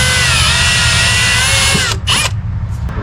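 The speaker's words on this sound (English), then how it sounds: "I'm just gonna drill these rivets out real quick while it's bolted in" A power drill whines steadily and loudly, then cuts out briefly and restarts in a short burst, grinding through metal rivets up close on a Chevrolet C1500 spindle.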